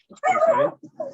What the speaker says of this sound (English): I apologize for my dog. It's barking as well